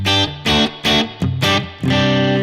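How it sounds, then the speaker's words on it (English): A distorted electric guitar runs through a Headrush effects rig, playing loud chord stabs in a choppy rhythm, five or so bursts with short gaps where brief reverb trails linger, ending on a longer sustained chord. "You can kind of hear the trail of the reverb"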